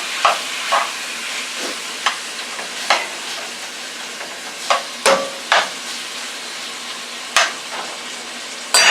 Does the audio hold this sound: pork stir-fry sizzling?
yes